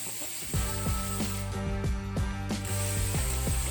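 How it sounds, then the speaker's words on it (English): A hand wrench ratchets repeatedly while tightening valve cover fasteners during transmission service on a 2015 Lamborghini Huracán, producing close, crisp rhythmic clicking bursts in a quiet workshop. "Get a wrench or an impact tool to tighten the fasteners."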